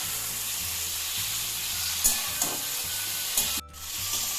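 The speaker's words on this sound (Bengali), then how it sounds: "এটাকে ঝিঙের সাথে একটু নাড়াচাড়া করে ভেজে নেব" Sliced ridge gourd fries in a pan with jackfruit seeds, a constant close sizzle broken by a few scraping stirs of a spatula and a brief pause near the end.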